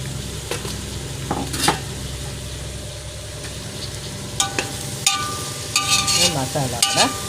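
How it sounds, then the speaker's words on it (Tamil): Soaked, squeezed soya chunks (meal maker) frying with masala in a pan make a continuous close sizzle, broken by clinking spoon scrapes and stirring strokes that grow busier toward the end, with no speech. "மசாலா கூட வதங்கட்டும்."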